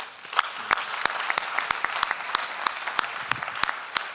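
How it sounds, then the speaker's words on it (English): Applause from a conference audience at the Africa Blockchain Conference 2018, heard as a steady wash of claps. Sharper individual slaps stand out at an even rhythm over the moderate crowd, with no talk. "We deserve to give you a round of applause."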